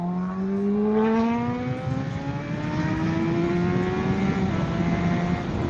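A 2007 Honda CBR600 motorcycle engine accelerates hard, its loud, close whine climbing steadily in pitch through the gears with brief dips at each shift. There is no talking.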